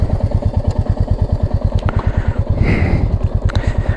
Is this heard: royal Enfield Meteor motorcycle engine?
yes